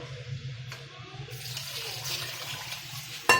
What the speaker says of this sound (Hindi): अब मैं इसके अंदर जो है वो पानी ऐड कर रही हूँ।